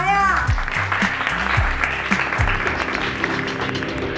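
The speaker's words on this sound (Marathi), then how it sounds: "टाळ्या." Applause at a Navi Mumbai municipal Swachhata Hi Seva 2024 event, a fairly loud, continuous clapping wash accompanied by a rhythmic low musical beat and a brief rising tone at the start.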